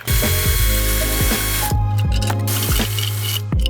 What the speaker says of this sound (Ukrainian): Храповик іде з металевими собачками.